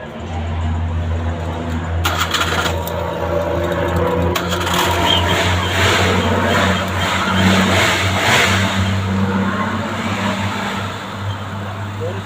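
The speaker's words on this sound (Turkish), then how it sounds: "bak Sibop'un Sibop seslerine bak. Sesini duyuyorum. Sibop vuruyor." A car engine with valve knocking idles and revs loudly and steadily, a continuous low drone with a metallic clatter on top, and a sharper burst of noise partway through, under people talking in Turkish.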